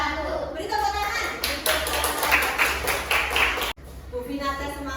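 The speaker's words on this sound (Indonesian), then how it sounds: "Beri tepuk tangan." Classroom clapping from primary school children during a sixth-grade decimal fractions maths lesson, a dense burst of hand claps mixed with chatter, with taps and voices continuing before and after.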